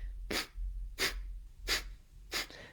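Four sharp, forceful breath exhalations driven by the belly muscles in an even rhythm, each a short burst of air close to the listener, with quiet pauses between.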